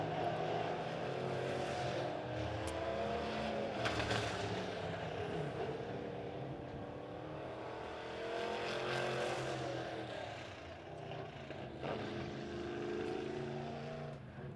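Midwest Modified race cars roar through a heat race at Springfield Raceway, a continuous dense engine drone with passing swells as cars come by, steady and moderately loud throughout.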